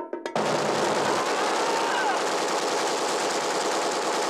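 Sustained machine gun fire from a 1977 war film, a long continuous burst preceded by a few sharp separate shots, loud and dense throughout with no talking.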